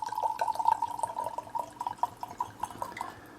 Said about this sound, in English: So we're gonna go ahead and pour this in the glass.